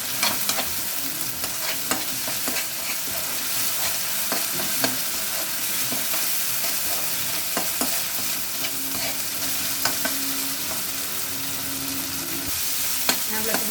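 Masala and tomatoes for gongura chicken fry in a hot pan as a spoon stirs and mashes them repeatedly, a steady close sizzle broken by scraping strokes.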